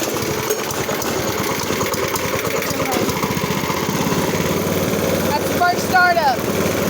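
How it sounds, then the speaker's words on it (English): A small single-cylinder engine on a John Deere go-kart starts for the first time and runs with a loud, rapid buzzing putter close by, revving briefly near the end while a person talks. "Alright, let's fire this thing up."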